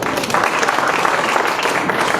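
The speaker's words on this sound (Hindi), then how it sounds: "जोरदार तालियां बजाएंगे।" A crowd at a political gathering claps steadily and densely throughout, a moderately loud wash of applause with no clear individual voices.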